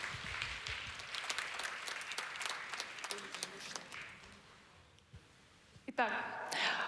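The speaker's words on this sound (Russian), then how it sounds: "Пожалуйста, встречайте ее аплодисментами." Audience applause at a talk on understanding Kandinsky and abstract art, a dense crackle of many hands clapping steadily for several seconds, then thinning and stopping before a voice begins speaking.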